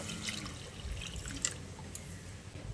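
Half a cup of milk poured into spiced boneless chicken in a pan, giving a soft, steady liquid trickle with faint drips, quiet and close, with no voice.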